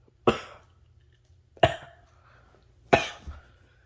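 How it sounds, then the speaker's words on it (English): Three harsh coughs, evenly spaced about a second and a half apart, close and clear against near silence. "Sorry, I have coughs."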